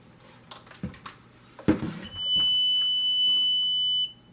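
A steady, high electronic beep from a LetPot LPH-SE hydroponic system holds for about two seconds after a few soft clicks and handling noises.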